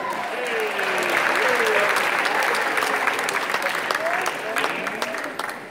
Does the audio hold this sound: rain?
no